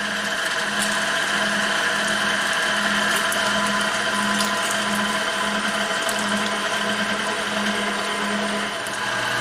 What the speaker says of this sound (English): I'm just going to give you a quick shot of it coming out of the grinder at the discharge in